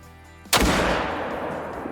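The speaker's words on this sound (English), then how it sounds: "Versus this, the 30-06 bolt action rifle." A 30-06 bolt action rifle fires a single loud, close shot in the hunting game Call of the Wild, a sharp crack followed by a long rolling echo that slowly fades over a steady outdoor background.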